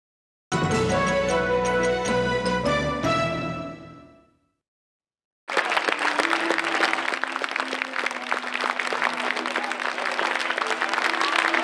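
A few seconds of music end and a short silence follows. Then an enthusiastic crowd at the Cineteatro Giolli in Olginate breaks into loud, sustained applause for Antonio Albanese, continuing steadily to the end.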